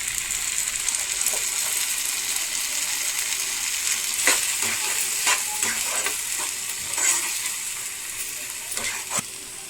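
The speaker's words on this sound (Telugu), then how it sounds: "ఇప్పుడు మిక్సీ పట్టిన టమాటో పేస్ట్ని అయితే దీనిలో వేసేసుకుందాం." Blended tomato paste hits frying onions in a pan for a mushroom masala curry, raising a steady close sizzling hiss with scattered scraping stirs and clicks throughout.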